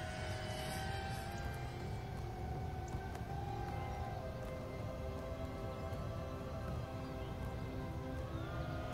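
An FPV drone skims low over the ground in a flyby, its motors giving a steady, close buzzing whine whose pitch bends up and down throughout, with no voices.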